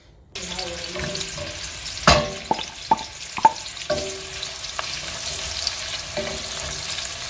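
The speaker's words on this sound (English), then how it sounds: "I'm going to be adding my sliced onion with the shallot" Sliced onion and shallot frying in palm oil in a pot for a vegetable stew: a steady close sizzle with several sharp stirring clatters and scrapes against the pot, no talking.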